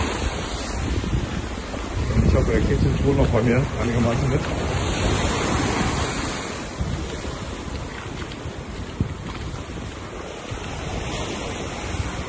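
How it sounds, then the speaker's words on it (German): Loud surf breaks steadily on a resort beach, a broad continuous wash with wind buffeting the microphone, while someone talks over it. "es ist doch laut gerade durch die Wellen"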